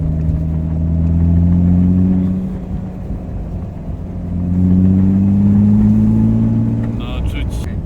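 A BMW E30 engine at full throttle, its revving note rising strongly in two long pulls with a brief dip between, loud and close inside the car.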